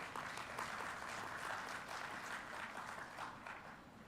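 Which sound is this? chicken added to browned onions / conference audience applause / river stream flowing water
conference audience applause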